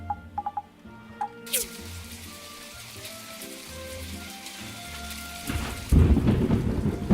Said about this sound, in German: Unwetter hoch 5 hier.